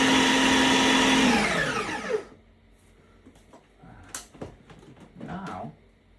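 A blender whirs loudly for about two seconds as it quickly mixes a no-cook snack mixture, then spins down and stops, followed by quiet clinks and handling noises and some speech.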